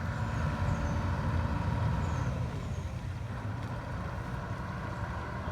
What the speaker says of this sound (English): the ferry makes another trip while I'm waiting on my ride